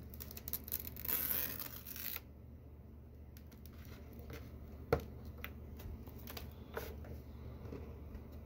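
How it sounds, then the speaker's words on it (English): Tape being peeled off a model road surface, a ripping tear near at first, then quieter handling clicks and small taps. "Take all this tape off."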